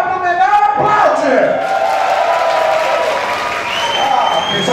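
Show audience clapping, cheering and whooping together, loud and close, with raised voices and shouts over the sustained applause.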